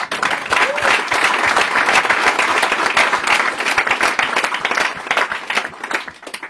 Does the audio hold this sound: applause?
yes